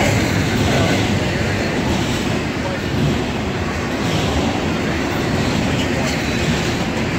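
A train rolls past with a rear DPU locomotive, a loud, sustained rumble of wagons and wheels close by, with voices talking over it.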